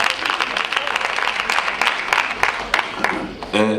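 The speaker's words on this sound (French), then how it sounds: "Est-ce que vous pouvez vous applaudir, s'il vous plaît?" A live comedy audience claps for itself, broad continuous applause from many hands, fairly loud and even, with a voice briefly cutting in at the end.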